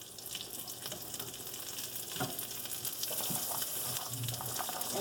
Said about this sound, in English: So I put in egg like this and let them cook.